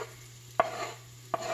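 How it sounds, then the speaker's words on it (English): Garlic and onions frying in a single pan for a keto green bean casserole, a soft steady sizzle with two sharp clacks of a utensil stirring against the pan, no voices. "let's go ahead and add in the garlic"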